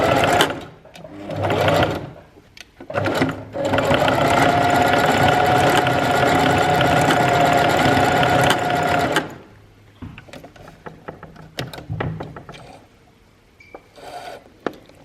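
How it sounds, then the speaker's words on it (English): A sewing machine stitches down a midi skirt waistband in two bursts, a short run followed by a longer steady whirring stretch, then stops, leaving quiet handling sounds and soft clicks. "now I'm just going to stitch down here just to secure it in place"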